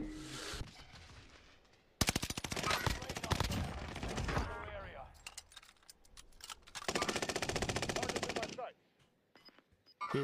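Online multiplayer shooter gunfire: bursts of rapid automatic fire, a sustained rattle around the middle and another long burst later, with scattered single shots and quiet gaps between, sounding close and loud.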